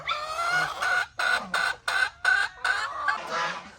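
Chickens cluck close by at feeding time alongside geese, in a run of short, evenly spaced bursts, about eight calls in a row with brief gaps between.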